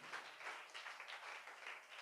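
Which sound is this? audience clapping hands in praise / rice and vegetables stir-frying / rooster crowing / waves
audience clapping hands in praise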